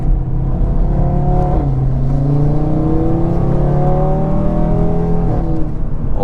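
An Audi RS3 accelerates hard on back roads, a loud, close exhaust note rising in pitch through the gears, with crackling pops as it shifts.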